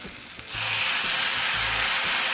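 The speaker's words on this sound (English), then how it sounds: "We're going to put some beef broth in the bottom of that pan" Beef broth poured into a hot pan for a pork roast braise hits with a sudden loud hiss after a quiet start, then keeps sizzling steadily and strongly with faint clinks underneath.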